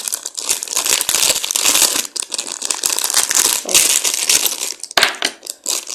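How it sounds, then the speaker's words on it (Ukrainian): A plastic packet is torn open and crinkled by hand, a loud, close, continuous crackling and rustling that comes in dense bursts with brief pauses. "Я меншого пакетика не мала, зараз я вам розпечатаю."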